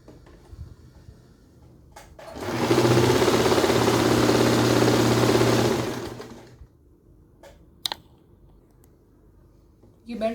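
A sewing machine runs a continuous stitching burst of a few seconds through a thick elastic waistband on a ladies' pant, humming loud and steady, with small handling clicks and knocks before and after.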